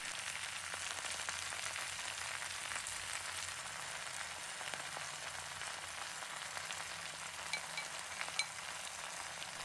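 Seasoned sauce poured into a clay pot of hairtail fish simmers with a steady, close, even sizzling bubble that continues without pause and with no talking.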